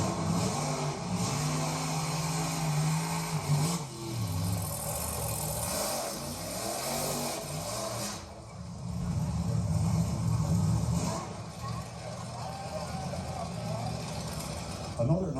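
The Hurst Hemi Under Glass drag car runs at a 1960s drag strip, its engine droning and surging in long rough swells, with a narrator talking over it.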